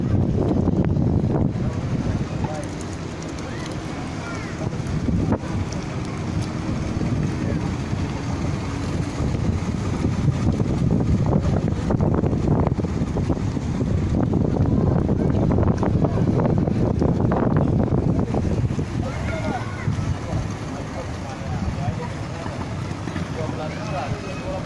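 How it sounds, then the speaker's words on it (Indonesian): A small passenger boat carrying about ten people crosses the water near Ambon, Maluku, its steady engine drone mixed with wind buffeting the microphone and sea noise, with voices talking over it throughout. "Kalau pengen nyebrang pakai kapal kecil ya seperti ini"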